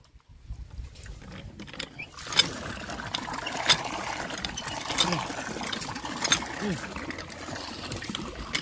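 Water is poured over a child being bathed. It trickles and splashes continuously with recurring louder splashes, and people talk nearby.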